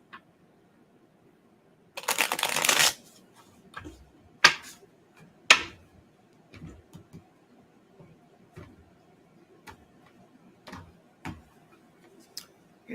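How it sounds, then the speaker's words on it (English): Bunny-themed tarot cards get a quick riffle shuffle, a short dense papery burst, followed by scattered soft taps and clicks of cards being handled in a quiet room. "I'm going to shuffle it one more time before I do your reading."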